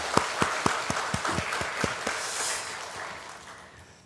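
A church congregation claps, starting with a few sharp, distinct hand claps in a loose rhythm that soften into a quieter, thinner patter of applause toward the end.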